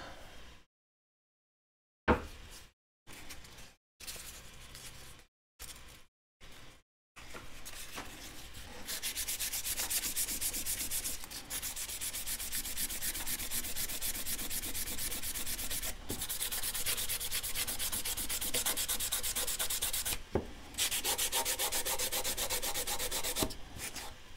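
Sandpaper rubbed by hand over wood in a workshop, a steady continuous scratching that runs for many seconds at close range after a few brief bursts and pauses, with no talk over it.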